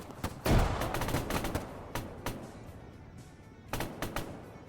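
Gunfire in the military game Arma 3, several loud bursts of automatic rifle fire in quick rapid volleys with a heavy thump near the start, then short gaps and another cluster of shots.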